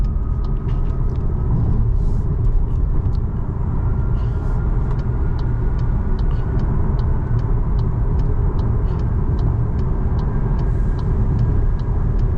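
A faint, steady high whistle rides over the constant low rumble of road noise inside a VW Tiguan R-Line cruising at highway speed.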